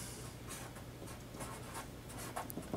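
A marker or pen scratches across a board while a B matrix derivation is written out, giving faint, irregular strokes and squeaks over a low room hum.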